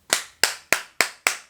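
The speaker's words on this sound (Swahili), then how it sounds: "Nakupigia makofi yote mwanangu" Five sharp, close hand claps in an even rhythm, each a crisp slap with a quick decay and nothing else around them.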